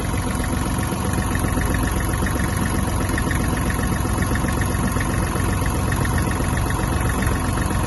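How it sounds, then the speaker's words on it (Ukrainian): Kubota GL-200 Japanese mini tractor with its diesel engine idling steadily, a continuous even rumble with fine mechanical clatter throughout, close and alone with no voices. "Двигун працює як годинник. Чисто, м'ягко."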